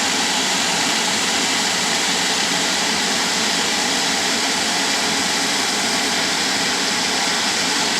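A furnace inducer fan runs loud and steady, purging the exhaust with a broad, constant whooshing roar and no voices.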